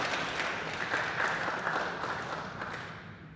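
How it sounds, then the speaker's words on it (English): An audience claps at a school fall sports senior day ceremony, a moderate steady patter of many hands that eases off slightly toward the end. "You guys can clap"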